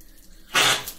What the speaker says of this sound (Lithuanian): užsisukam maišytuvą, iš kurio pasiduos vanduo į dušą